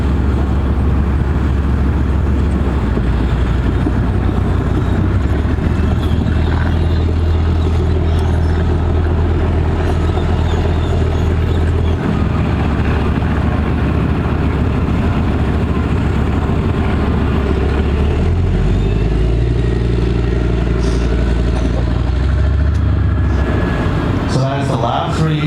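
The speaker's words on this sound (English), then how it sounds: "Listen to how powerful the engine is" A Canadian Leopard C2 main battle tank engine roars loud and close during a pivot maneuver, a heavy sustained rumble with shifting pitch and clanking near the end, under a voice talking.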